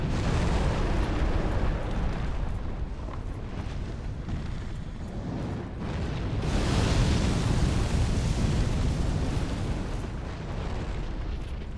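A fire attack in Dark Souls 3 roars as a loud, continuous rush of flame and rumbling blasts, swelling partway through and staying dense throughout.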